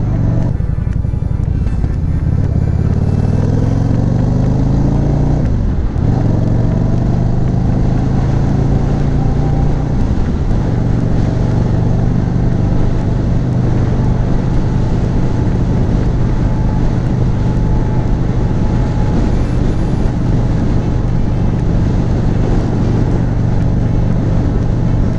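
Yamaha V Star 650 motorcycle engine accelerating hard after a test ride, a loud continuous low rumble with rising pitch sweeps as it revs through gears, steady roar with wind throughout and no talking.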